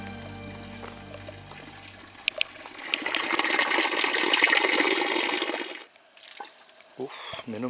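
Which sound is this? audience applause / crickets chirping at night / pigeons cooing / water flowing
water flowing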